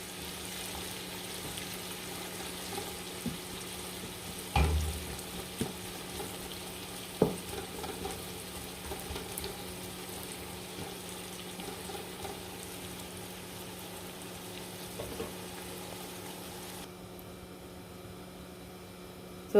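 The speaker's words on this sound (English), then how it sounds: "I'm just gonna leave this onion to fry for a minute or 2" Chopped onion fries quietly in a pan as the base for an okra stew, a steady soft sizzle with a few small pops and clicks scattered through, without any voices.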